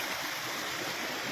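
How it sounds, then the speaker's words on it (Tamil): A mountain stream of water flowing down from Mount Kailash, a steady, loud, continuous rushing and gurgling that carries on without pause, with no voices over it. "கைலாய மலையிலேருந்து தண்ணி மேலேருந்து கீழே அப்படி வந்துக்கிட்டே தான் இருக்கும்."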